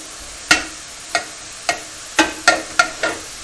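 Bread and sausage dressing cooking in a pan: a spoon taps and scrapes seven times in an uneven rhythm, close and fairly loud, over a faint steady sizzle.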